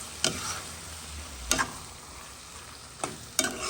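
Aubergine rougail with chili is stirred in a pan, four sharp spoon scrapes and clatters spread across a soft continuous sizzle, close and moderately loud.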